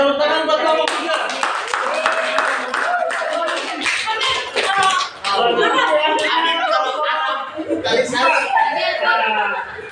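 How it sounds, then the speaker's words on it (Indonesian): A class claps for a group of students after their presentation: a loud burst of hand clapping, uneven and rhythmic in places, mixed with chatter and laughter from the room. "Ya, tepuk tangan buat kelompok"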